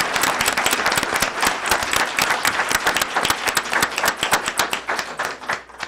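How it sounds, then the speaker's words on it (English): An audience at a county commission candidate forum gives the District 3 candidates a loud, close burst of many hands clapping that holds steady for about six seconds before thinning out at the end. "would we all please give these candidates from District 3 an applause for their work"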